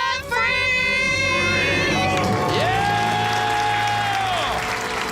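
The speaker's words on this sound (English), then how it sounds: "Let's hear a debt-free scream." A live audience erupts in loud cheering, whooping and applause after a family's debt-free scream, with excited shouting continuing over sustained clapping.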